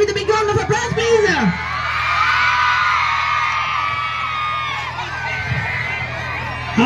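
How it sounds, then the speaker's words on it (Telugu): An audience at a St Joseph's High School event in Rentachintala cheers, whoops and yells for comedian Punch Prasad coming onstage, a loud, dense crowd roar with shouting voices throughout. "with big round of applause please"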